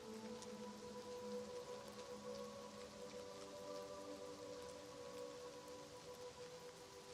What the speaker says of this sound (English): Just take a moment and listen to the rain.